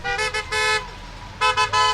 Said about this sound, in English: Passing motorists honked their support.